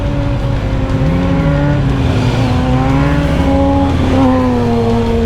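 Kawasaki Ninja ZX-6R sportbike being ridden, its engine droning loudly and continuously with rising and falling pitch as the rider shifts and accelerates, with no talking.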